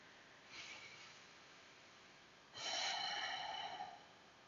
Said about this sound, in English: And then a couple breaths here, just in standing.